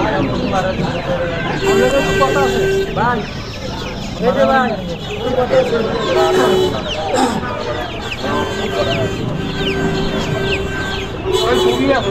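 Brown cock and tiger chickens at a traditional market cluck and crow repeatedly, with loud, overlapping fowl calls that are near and busy, and people talking throughout.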